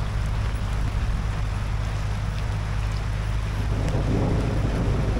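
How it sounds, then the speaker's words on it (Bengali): Steady rain pours during a storm at a hotel in Dooars, a dense, continuous wash of noise with a low steady hum underneath and no talking. "আমি এই যে এখনও বৃষ্টি পড়ছে।"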